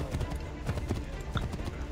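Horse hooves clip-clop in a quick rhythmic gallop in the video game Assassin's Creed 3, close and fairly loud, with a voice talking over the hoofbeats.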